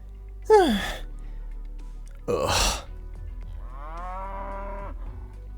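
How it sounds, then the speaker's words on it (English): Stock beasts in the Arknights video game give three loud, close animal calls: a sharp falling cry, a harsh rasping burst, then a longer lowing, moo-like call over a low steady hum. "And they apparently make oink sounds, which means they're kind of pig-like"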